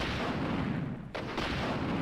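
An infinite rocket launcher firing in Resident Evil 3: Nemesis, a dense, roaring game blast that fills the moment with a brief dip before the rumble resumes, loud and continuous, with no talking.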